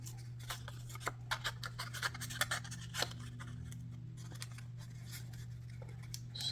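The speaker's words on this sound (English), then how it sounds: "I'm just cutting like a little opening there to stick that tab in." Scissors snip a small opening in card stock for a tab, a string of light, close clicks and crisp cuts over a steady low hum, quiet and with no voices.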